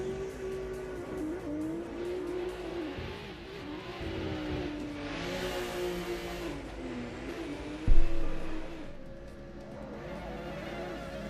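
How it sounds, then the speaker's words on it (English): A Mazda RX-7 races in a video game, its engine revving and shifting under loud tire squeal, with a sharp thump partway through and other cars' engine noise around it. "Ooh, we got an RX-7. I hear it."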